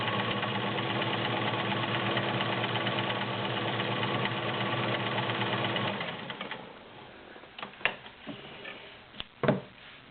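A Kenmore 1802 sewing machine, the "Tower of Power", runs at a fast, steady mechanical hum with rapid ticking for several seconds. It then stops, leaving a few faint clicks and clunks.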